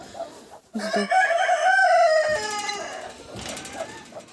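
A rooster on a farmyard crows once, loud and close, its drawn-out call rising and falling over about two seconds, followed by softer clucking and low background noise.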